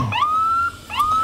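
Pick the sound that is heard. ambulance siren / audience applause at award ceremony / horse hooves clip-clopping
ambulance siren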